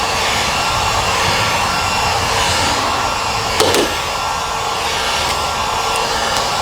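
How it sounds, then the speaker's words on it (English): A heat gun blows steadily over carbon fiber vinyl wrap on a car hood, its even rushing hiss holding close and loud throughout, with a brief tap near the middle. "grab your heat gun and be mindful"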